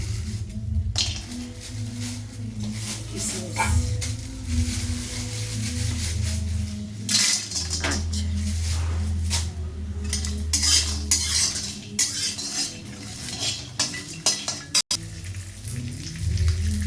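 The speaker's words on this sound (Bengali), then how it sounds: "কড়াইতে তেজপাতা দারচিনি এলাচ লবঙ্গ ও শুকনো খোলায় একটুখানি ভেজে নাও" Whole spices (bay leaves, cinnamon, cardamom, cloves) rattle and scrape in a dry pan as a spatula stirs them steadily, with metallic clinks and a low background hum.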